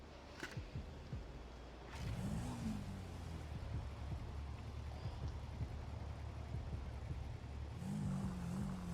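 A police squad car engine in a GTA roleplay game, a low steady rumble with rising revs near the start and again near the end, moderately close, with no talking over it.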